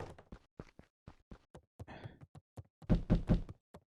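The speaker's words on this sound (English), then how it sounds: "Where's that knocking coming from?" Knocking on a door in the video game Beacon Pines, a series of quick separate raps in uneven groups, clear and fairly close, with a louder burst of knocks toward the end and no talk.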